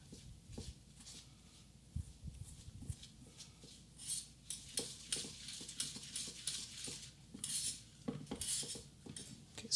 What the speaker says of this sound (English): the whisk is just not mixing it to my liking